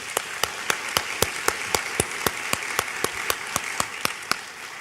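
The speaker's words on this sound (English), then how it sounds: "So how about giving them a round of applause?" Audience applause for a jazz trio at an anniversary celebration, dominated by sharp, evenly spaced claps from a nearby clapper over a soft background of wider clapping.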